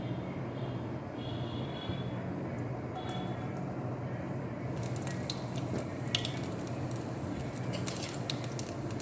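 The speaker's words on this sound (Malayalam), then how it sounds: "ഇനി ചെമ്മീൻ ഫ്രൈ ചെയ്തെടുക്കാനായിട്ട് കുറച്ച് വെളിച്ചെണ്ണ ഒഴിച്ചു കൊടുക്കുക." Coconut oil is poured into a pan for frying prawns, a soft wet trickling and spattering over a steady low background hiss, brightening into a fizzing patter partway through.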